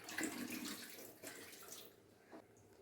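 Cut tapioca is rinsed in water to wash out its starch in a home kitchen, giving a soft, quiet splashing and sloshing that trails off toward the end.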